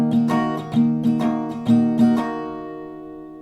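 An acoustic guitar strumming pattern of mixed down and up strokes, about six quick strums on one chord in an uneven rhythm before it is left ringing out, close and clear with no voices.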